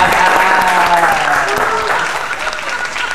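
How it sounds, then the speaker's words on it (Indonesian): Loud studio audience applause on an Indonesian television talk show, dense and continuous clapping with crowd voices blended in, fading slightly toward the end. "Cocok buat tepuk tangan lagi."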